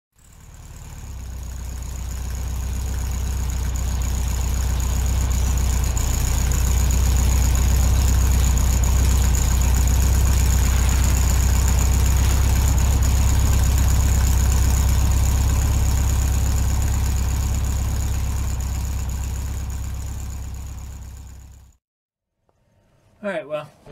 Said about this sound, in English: we got the safety glasses on and the cutoff wheel in my hand.